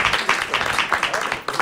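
Studio audience applauding a musician on a talk show, a brief burst of clapping mixed with talking voices.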